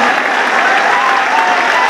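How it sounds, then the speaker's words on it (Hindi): A live audience at a poetry recital breaks into loud, dense clapping that holds steady and unbroken throughout, filling the hall with no other sound standing out. "जोरदार तालियां साथियों"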